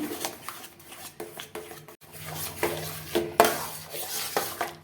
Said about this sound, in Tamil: கை விடாமல் கிளறணும், ஏன்னா அப்போ தான் அந்த கிரேப்ஸ் கலர் அப்படியே வரும்